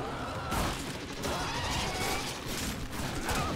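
Rhino fires a shotgun in Warframe: repeated loud gunshot blasts at roughly half-second to one-second intervals over continuous game noise, with a voice talking beneath.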